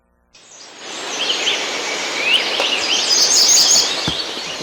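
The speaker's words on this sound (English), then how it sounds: "you hear the birds in the background" Dense, bright bird chirping fills a grove of trees at a campground, many calls overlapping steadily with a soft rustling hiss underneath.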